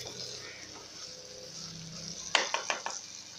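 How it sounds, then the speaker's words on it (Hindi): Pickle masala being stirred into frying aubergines in a pan, a soft sizzle under a low hum, then a run of quick spoon scrapes and clinks against the pan. "अब मैं इसमें अचार का मसाला शामिल कर रही हूँ और इसको मिक्स कर लूँगी।"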